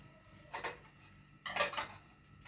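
Light metal clinks of a utensil against a pot while coriander goes into a mango and dried red chilli chutney, two short clusters of tapping close up.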